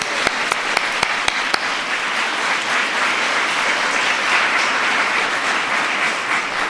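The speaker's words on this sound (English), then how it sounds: "So let's give them a round of applause." A crowd at a White House holiday season event applauds, a few sharp distinct claps at the start swelling into sustained, dense applause that continues steadily at full level throughout.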